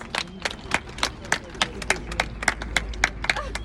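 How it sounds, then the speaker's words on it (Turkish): Boat tour passengers on a Nyhavn canal cruise in Copenhagen clap for their captain, a scattered, uneven round of handclaps from a small group, with some voices mixed in. "let's give our captain a big applause!"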